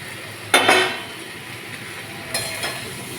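Vegetable stems drop into a hot pan of fried jackfruit, giving two short bursts of clatter and sizzle a couple of seconds apart, close and fairly loud, with quiet kitchen noise in between.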